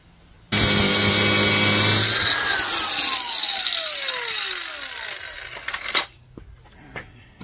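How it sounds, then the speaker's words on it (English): An angle grinder cuts the governor hog ring on a Duromax 440cc 18hp engine, starting with a loud, harsh continuous grinding whine that slowly drops in pitch, then tapering off with a few clanks and metallic knocks. "I probably literally am just going to take a grinder right to that edge"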